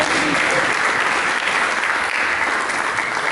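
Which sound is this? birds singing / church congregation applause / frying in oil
church congregation applause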